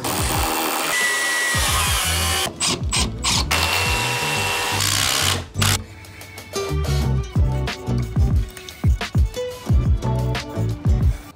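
A power drill drives GRK structural screws through a block into a double rim joist for a porch, with loud whining bursts, pauses and clattering handling noises between runs.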